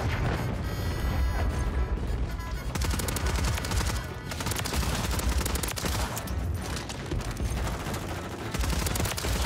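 Rapid automatic fire from a Superi 46 submachine gun in Modern Warfare 3 multiplayer, a dense continuous fusillade of loud close bursts with impacts and crashes layered throughout.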